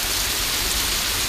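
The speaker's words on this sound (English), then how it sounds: "This is honestly the hardest I've ever seen it rain here." Heavy rain pouring down in a dense, continuous hiss with no pauses, loud and close, with no voices.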